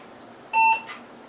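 A Pentium 3 computer in an AT case gives its POST beep at boot, a single short, clean electronic tone, fairly loud against a quiet background, followed by a faint rustle.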